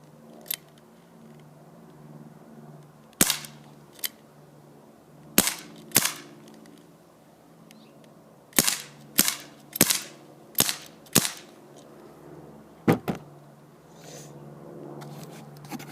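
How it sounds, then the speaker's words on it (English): A Dan Wesson 8-inch BB gun revolver fires six sharp, loud pops at irregular spacing, with a few quieter clicks of the cylinder and handling noise between shots. "I'll shoot off 6 rounds for you guys"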